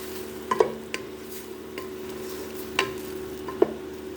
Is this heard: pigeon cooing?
no